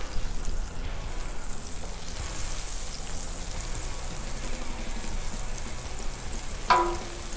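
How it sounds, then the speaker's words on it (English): Butter sizzles and crackles steadily on a hot Blackstone griddle, a continuous hiss like light rain, alone and fairly quiet, with a brief clink of a utensil near the end. "let's throw a little bit of butter. Get that going good."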